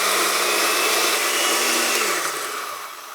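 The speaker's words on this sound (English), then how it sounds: "we'll try it on low again and try to ramp it up and see" An old blender, nicknamed Oscar, runs on its low setting with a steady loud whirring motor hum, then the pitch drops as it winds down near the end.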